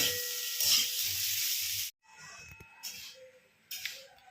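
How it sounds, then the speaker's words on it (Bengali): Eggplant and potato soften in a hot pan with a close, bright sizzling hiss that cuts off abruptly, followed by quieter clinks and brief returns of frying noise. "আর এইখানে এখন চলছে বেগুন আলুটা ভাজা ভাজা না আর কি জাস্ট একটু নরম করে নিচ্ছি"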